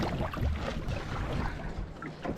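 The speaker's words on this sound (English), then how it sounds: "It was meant to be good wind today, but it died away and I ended up paddling." A proa boat paddled on calm sea gives steady watery swishes and splashes from close by, with a constant rush of water and light wind noise throughout the short stretch.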